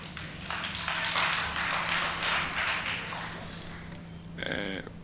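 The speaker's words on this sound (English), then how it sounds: "Please, let's not clap." Spectators at a South African state capture hearing burst into applause, a dense wash of many hands clapping at moderate distance that fades after a few seconds, followed by a brief voice.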